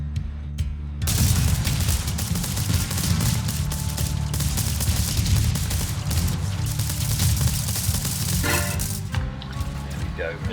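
Missiles fire in TerraTech as a dense barrage of explosive blasts and booms that runs nearly continuously, loud and close, after a short quiet opening.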